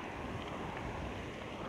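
A waterfall seen along a bicycle route gives a steady, faint rushing roar of falling water that continues without a break, with no voices.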